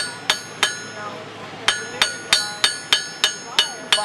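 A blacksmith hammers hot iron on an anvil, rounding off the corners of a squared bar: about a dozen sharp, ringing metallic strikes in a steady rhythm with a short pause, close and loud.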